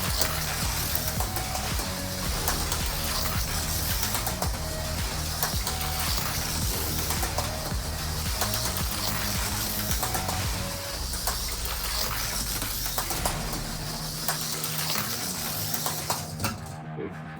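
An MCM TFX Pro slot car runs on its track on tires too low for the surface, front end bouncing: a loud, continuous whirring rattle with dense mechanical clatter that goes on for many seconds, then cuts off abruptly at the end.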